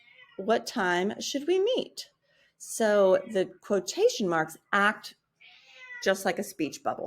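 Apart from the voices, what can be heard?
cat meowing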